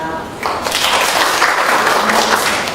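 Audience applause at a media day product launch greets a presenter being introduced, a dense broadband wash of clapping that swells in after a brief quieter start and holds steady and loud throughout.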